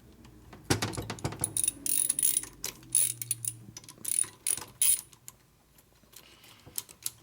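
A wrench ratchets and clicks while bolts are tightened on a Harley-Davidson Shovelhead motor during an engine rebuild, giving irregular bursts of close metallic clicking and clanks with short pauses between them.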